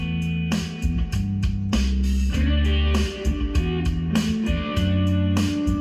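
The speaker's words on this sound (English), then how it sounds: "And of course you got the electric guitar." An electric guitar plays over a full band with drums and bass, a steady rhythmic groove at moderate loudness, no voices.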